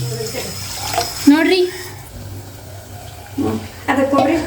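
Water pours into a cooking pot in a home kitchen while someone talks, coming in short bursts between her words with a soft, close splashing trickle.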